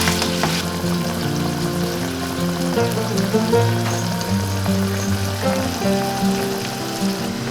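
A pan of tteokbokki broth bubbles and sizzles steadily at close range, a continuous simmering crackle with no talking.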